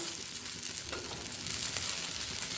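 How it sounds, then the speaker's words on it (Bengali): Prawns fry in hot oil in a pan, giving a continuous close sizzle that grows a little louder partway through, with light stirring sounds. "চিংড়িটি লাল করে ভাজা হয়ে গেছে"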